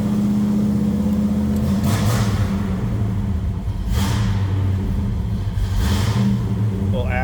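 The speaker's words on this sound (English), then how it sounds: "Got a nice rumble to it, but you can hear now it's idled up a little bit." A 1971 Pontiac LeMans convertible's V8 idles with a low, steady rumble, close and loud, with periodic bursts of hiss or rushing noise washing over it roughly every two seconds.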